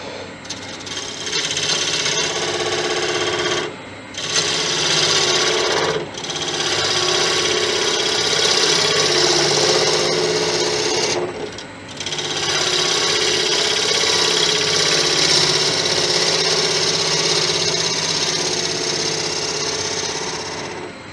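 A wood lathe takes a roughing cut on clock wood with a loud, steady rasping scrape that runs continuously, broken by a few brief pauses as the tool lifts off the spinning workpiece.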